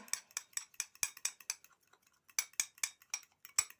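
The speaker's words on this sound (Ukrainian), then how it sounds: "Ось до яйця додаю трошки ванільного цукру. Збиваю." An egg is whisked with vanilla sugar in a bowl, making quick, sharp clinking strokes in rapid rhythmic runs with a short pause midway, close and fairly faint.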